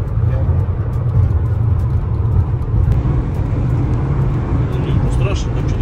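A Mercedes-Benz GLA 180 with chip tuning accelerates on the road, its engine and road roar a steady, loud drone from inside the cabin while people talk over it.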